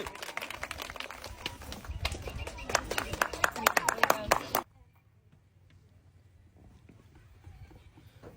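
An audience at a prize game event claps loudly and continuously for several seconds, a dense close patter of many hands, then cuts off abruptly into quiet background hum.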